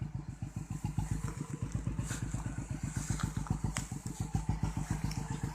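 Homemade Thai farm vehicle (e-taen) hauling sugarcane out of a field, its engine chugging close and loud in a fast, steady, pulsing rhythm throughout, with no talking.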